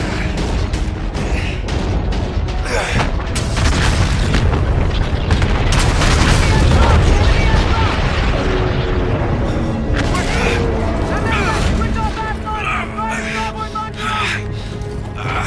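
Battle in the Call of Duty: Infinite Warfare video game: dense gunfire, booming explosions and missile blasts roar continuously and loudly, thinning slightly toward the end, while soldiers shout orders over the chaos.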